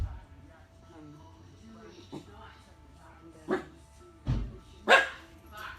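A few short dog barks and yips sound at moderate distance, spaced irregularly over a quiet, humming background.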